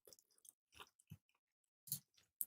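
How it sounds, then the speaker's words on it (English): Someone chews food close to a microphone, making soft, wet, crunchy bites in separate bursts with short silent gaps between them. There is no talking. "I don't want you guys to hear me chewing"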